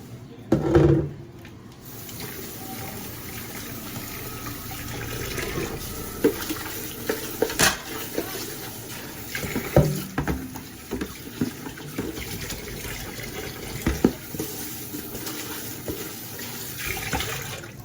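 Tap water runs steadily into a plastic basin while dishes are washed at home, with occasional clinks and splashes over the continuous hiss and no talking.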